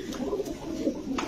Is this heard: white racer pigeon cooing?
yes